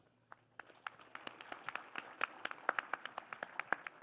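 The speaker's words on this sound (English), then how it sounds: "let's applaud this moment" Sparse individual claps at a national conclave on AI evolution at Guru Gobind Singh Indraprastha University, starting from a few hands and building into a thin, distinct patter of separate claps.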